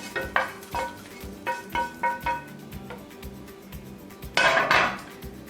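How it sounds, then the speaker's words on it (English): Bacon tipped into a pot of minestrone soup: a series of sharp metallic taps of a utensil against the pot in a loose rhythm, then a brief louder scrape and soft sizzle near the end. "Now I'm going to add the bacon to the soup mixture."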